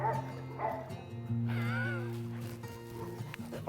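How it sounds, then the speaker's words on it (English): A happy, friendly rescue dog gives a few short yipping barks and a whimpering, wavering cry across a few seconds, close and moderately loud over a low background drone. "Just a happy, friendly dog."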